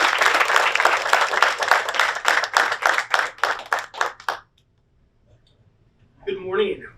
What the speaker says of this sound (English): Give them a round of applause, you guys.